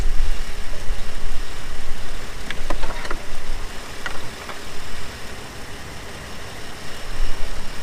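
A Subaru Outback 3.6R engine idling rough and shaking, with a loud constant droning rumble close by and a few faint ticks over the top, and no talk.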